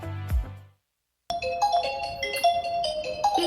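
A phone's ringtone for an incoming call plays after a brief deep tone and a moment of silence, a bright, melodic, repeating tune, loud and close, with no talk over it.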